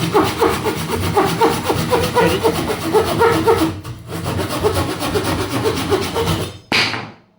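A hand saw from AliExpress cuts through pine wood in quick, rhythmic rasping strokes, loud and close. It pauses briefly midway, then stops with a final scrape.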